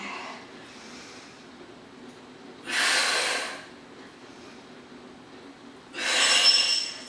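Two strong, breathy exhales during a pilates interval workout, each lasting under a second and spaced about three seconds apart, close and loud over a quiet room with faint breathing in between.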